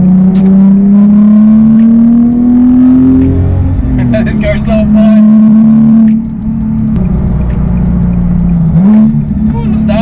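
A Nissan 370Z Nismo track-tuned street car revs hard with a steady loud engine drone, then drops pitch through downshifts and climbs again, with a person talking over the engine.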